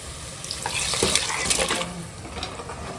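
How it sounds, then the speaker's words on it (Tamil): Liquid splashes and pours continuously into a cooking pot of goat trotter soup for a few seconds, a close, steady watery rush. "இதெல்லாம் ஊற்றிட்டாங்க கொதிக்குது பாரு"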